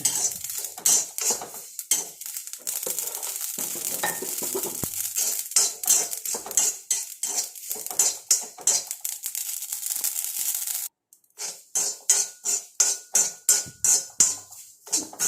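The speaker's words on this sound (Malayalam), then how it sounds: "കടുക് പിന്നെ ചൂടായി കിടക്കുന്ന ചട്ടിയിലായതുകൊണ്ട് വേഗം തന്നെ പൊട്ടിക്കോളും" Mustard seeds crackle in a hot pan, a dense run of sharp little pops repeating close by for the whole stretch with a brief lull near the end, no voices.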